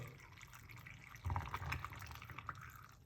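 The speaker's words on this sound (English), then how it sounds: "So we're gonna put some water" Water pours and trickles into a container, faint at first, then a louder splashing stream with a few drips, and no voices.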